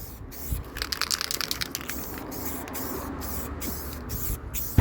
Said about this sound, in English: Go, gadget spray can.